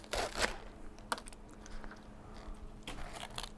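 Crisp crunching and snapping of romaine lettuce hearts as the leaves are pulled apart by hand from the core, a few sharp crackles close up, then quieter rustling.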